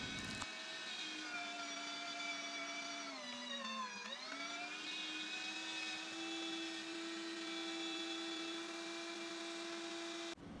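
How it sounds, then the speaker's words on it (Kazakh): Meat grinder mincing wild onion for adjika, a steady close motor whine with harmonic tones that dip briefly in pitch under load around the middle, then hold level until it stops. "Енді келесі кезекте ет өткізгіштен жусайымызды өткіземіз."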